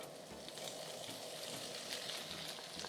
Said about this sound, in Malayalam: നെയ്ക്കകത്ത് കിടന്ന് നന്നായിട്ട് റോസ്റ്റ് ആയിക്കോട്ടെ